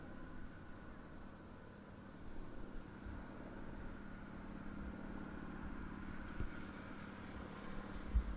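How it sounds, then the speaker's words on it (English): Steady low engine drone of distant tractors mowing hay, running continuously, a broad rumble with faint shifting tones and no voices. "You can hear some tractors mowing the hay."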